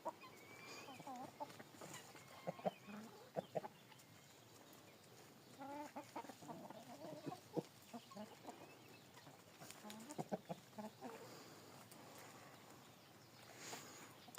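Crested domestic chickens cluck and chatter on and off, several birds close by, with quiet stretches between bursts.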